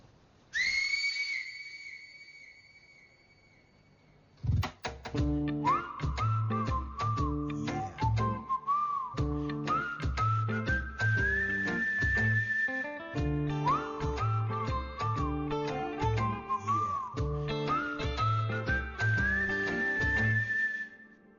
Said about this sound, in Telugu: అయితే హాఫ్ టైం విజిల్ కొట్టేద్దాం.